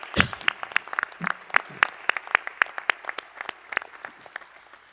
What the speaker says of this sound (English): Please give yourself a round of applause for this huge accomplishment